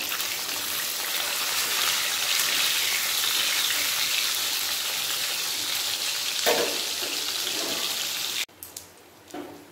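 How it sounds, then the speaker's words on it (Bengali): Loud, continuous sizzling of katla fish frying in hot oil, fairly close, cutting off abruptly near the end to a few quieter clinks. "মাছগুলো ভালোভাবে ভাজা হয়ে গেছে"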